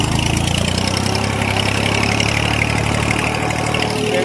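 A tractor engine running out in a farm field, a steady, loud, low chugging drone that holds even throughout, heard close with no talking.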